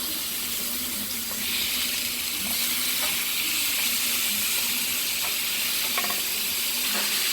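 Guinness pork chops sizzle steadily in a pan with a constant frying hiss, close and even throughout, plus a few faint clinks and stirring sounds.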